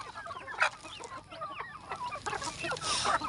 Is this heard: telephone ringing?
no